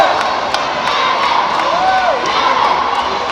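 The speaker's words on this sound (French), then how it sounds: "il s'impose finalement 3-7-2 sous les acclamations du public" A crowd cheers and shouts at the final of a table tennis open in Côte d'Ivoire, a loud and continuous roar with whoops rising over it and a few sharp knocks cutting through.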